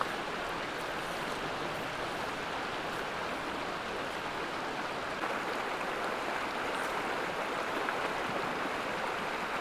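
A small mountain creek on Ice Lake Trail in Colorado rushes in a steady, close, even wash of water that runs without pause throughout.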